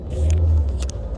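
Car engines rev and rumble nearby during a Drag Race Philippines Instagram live, a short loud low roar with brief higher whirring bursts.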